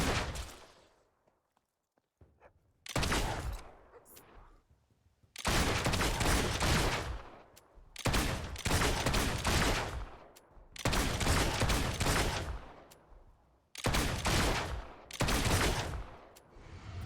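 Gunfire from the video game Fable 2 crackles in repeated loud bursts of rapid shots, each lasting about a second or two, separated by short quiet gaps.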